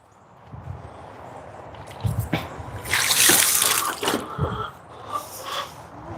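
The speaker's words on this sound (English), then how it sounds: "Get them some fresh water" Water runs and splashes as fresh water is given to backyard chickens, starting as a soft trickle and swelling into a louder, hissing gush in the middle before settling back to intermittent splashing, close by.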